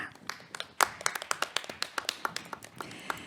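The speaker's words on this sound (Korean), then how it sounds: "큰 박수로 함께해 주시기 바랍니다" Sparse clapping from a small symposium audience welcoming a panelist to a discussion, roughly a dozen distinct, close claps in an uneven rhythm with gaps between them, fairly quiet overall.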